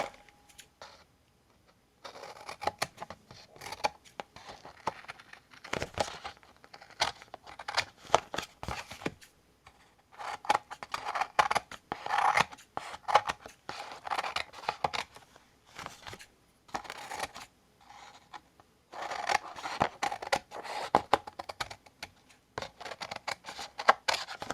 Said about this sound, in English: now we just trim off the excess.